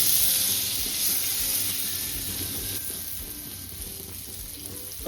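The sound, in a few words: butter melting and sizzling in a large wok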